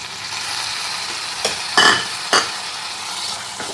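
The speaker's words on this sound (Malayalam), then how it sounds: "ഇതെല്ലാം കൂടി നന്നായിട്ട് വീണ്ടും വഴറ്റുക." Tomatoes sautéing in a pan for a ghee rice and egg curry, a steady sizzle and crackle running throughout with a few sharp scraping strokes of a stirring spoon against the pan, close and fairly loud, no voices.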